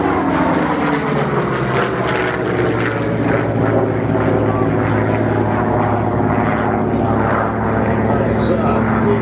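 A P-51 Mustang fighter's piston engine drones loudly and steadily as it flies past at the Duxford Air Festival, filling the air with a continuous propeller roar while a commentator talks over it.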